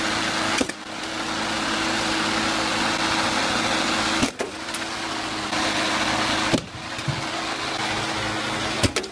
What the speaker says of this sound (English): Throw the spray paint into the lawnmower.